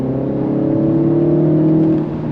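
A 2026 Mini Cooper S engine pulls hard under throttle, its steady droning note rising in pitch as the car accelerates, loud and close, then easing slightly at the end, with no one speaking.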